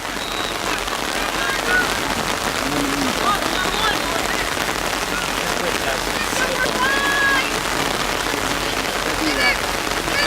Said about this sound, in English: Rain is coming down here.